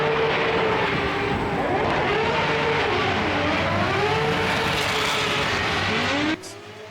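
A race car runs high on a banked oval at HOTPIT Autofest 2025, its engine loud and close with a sustained whine that climbs and dips through the corner before cutting off abruptly near the end.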